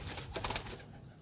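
A pigeon gives a brief, soft coo, a few low throaty pulses heard close by against quiet background noise.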